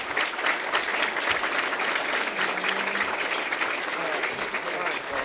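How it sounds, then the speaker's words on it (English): A roomful of people applauds a speaker at a civic event on Chicago's finances, with dense, even clapping sustained throughout at moderate level. "His sister, Marianne, give her a round of applause."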